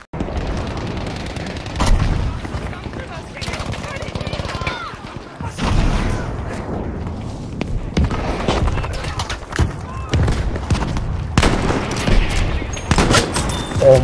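Sniper rifle fire in Battlefield 5 gameplay: repeated loud booming shots amid a dense battle din of explosions and distant gunfire, with a voice talking over it.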